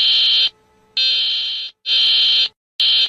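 Slovakia's emergency alert system alarm sounds as a loud, piercing electronic tone in three long pulses separated by short silences, with a fourth starting at the end.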